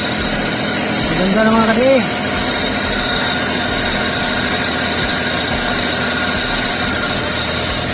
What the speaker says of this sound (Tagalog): kahit walang ligo itong ating makina, at least smooth ang kanyang andar